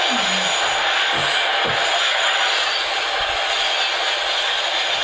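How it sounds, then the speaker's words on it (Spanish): A tram rolls through a disused ghost station in Móstoles, giving a steady, loud hiss of rail noise with brief low squeals and rattles early on, then a constant rushing wash to the end. "Vamos a escuchar el tranvía."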